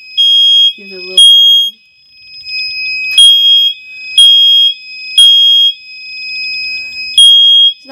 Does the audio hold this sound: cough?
no